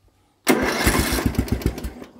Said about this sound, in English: See, it's trying to start